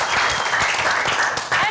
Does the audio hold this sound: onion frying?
no